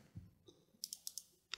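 A computer mouse double-clicks in a quiet room, giving two quick pairs of sharp, faint clicks with a single click just after.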